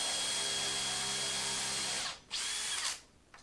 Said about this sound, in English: No glue, screwing it together so I can pull it apart if I need to.